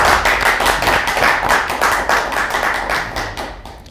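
An audience applauds a professor at an interview event, with loud, close hand claps in a fast rhythm. The clapping thins and fades toward the end.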